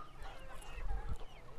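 Brahma chickens cluck and murmur nearby on a farm estate, a few soft low calls rising in the middle against light background noise, with no talking.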